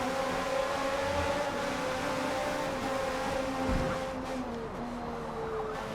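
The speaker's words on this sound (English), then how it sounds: "the sound of the car is the main thing" A high-revving race car engine in the video game Forza Motorsport whines steadily at a sustained, slightly shifting pitch, with a brief low thump midway.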